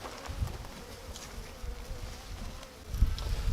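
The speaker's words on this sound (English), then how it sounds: "And now the time to put the bees" A package of honey bees hums and buzzes steadily during installation into a hive, a dense close swarm drone that swells slightly toward the end.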